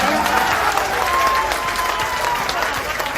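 Applause from a crowd at a Bihar political gathering, a steady dense wash of clapping that holds throughout at moderate loudness.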